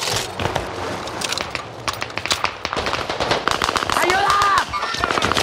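Rapid bursts of submachine gun fire in a first-person shooter video game, loud and continuous with crackling shots, mixed with shouted player voices and game effects.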